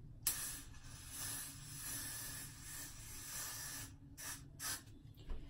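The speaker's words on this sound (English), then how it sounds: "For the rest, I'm gonna spray." Hair spray misted onto a wig, one long continuous aerosol hiss of several seconds followed by a few shorter bursts, close and fairly quiet.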